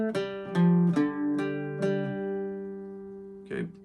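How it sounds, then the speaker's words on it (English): Irish bouzouki plays the closing phrase of the Glasgow Reel's A section: about five strummed, ringing notes with sustained drones, then a last brief strum near the end, heard alone. "Okay, fourth phrase of the A section of the Glasgow reel."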